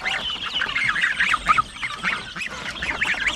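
Several geese honk and squawk together in a busy, overlapping chorus of rough calls, fairly loud and close, among other farm fowl.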